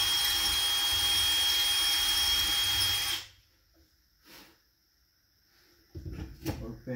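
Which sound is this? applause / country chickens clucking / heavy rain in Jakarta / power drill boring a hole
power drill boring a hole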